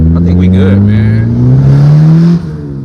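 A 1997 JDM Honda Accord wagon engine, loud and close, revving up with a steadily rising pitch and then dropping back after a couple of seconds.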